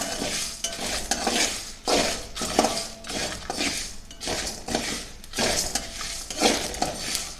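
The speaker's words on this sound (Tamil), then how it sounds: "இப்போ பாருங்கள், நல்லா வறுக்க ஆரம்பிச்சிருச்சுங்க. இப்போ இப்படி கைவிடாமல் கிண்டிக்கிட்டே இருங்க" A spoon keeps stirring egg masala as it roasts in a pan, loud rhythmic scraping strokes repeating every second or so over a constant frying sizzle, close up.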